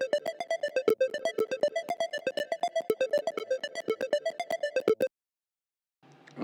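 A music loop, a bright plucked, bell-like synth pattern of rapid repeated notes in a steady rhythm, loud and alone for about five seconds before cutting off.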